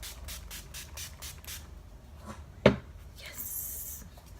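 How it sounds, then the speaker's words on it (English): Aerosol spray can, shaken and then sprayed for a multicolored eye makeup look, giving a short sharp burst followed by a brief soft hiss, close and fairly quiet. "So go ahead and shake it up. Shake it, shake it, shake it. And spray."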